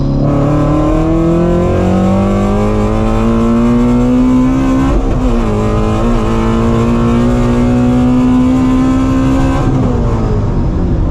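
A Ford Shelby GT350 accelerates hard through a third-gear roll in a street drag. The engine is loud and close, its pitch climbing steadily, with short dips at gear changes before it rises again.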